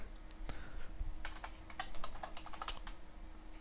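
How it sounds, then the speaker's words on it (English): Keystrokes on a computer keyboard while entering a short word in a programming lesson, a quick run of close, crisp clicks with a steady faint hum beneath and no talking. "Go ahead and type public and enter."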